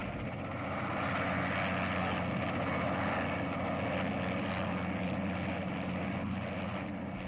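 A Royal Air Force Harrier jump jet gives off a steady, loud, broadband engine roar with a low tonal hum, holding constant throughout with no voices.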